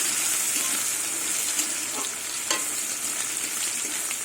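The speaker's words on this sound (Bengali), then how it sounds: "এবার একটা পেঁয়াজ কুচুনো দিয়ে দেবো পেঁয়াজটা আমি লাল লাল করে ভেজে নেবো" Chopped onion frying in oil with kalonji seeds, browning in a pan: an even, close sizzle with a couple of soft stirring knocks, no voices.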